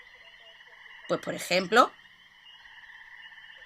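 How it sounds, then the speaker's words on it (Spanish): Frog croaking as a steady, faint layered call in the background, briefly covered by someone speaking over it. "este lince que intenta cazar a la rana"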